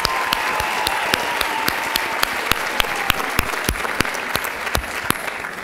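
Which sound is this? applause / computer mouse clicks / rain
applause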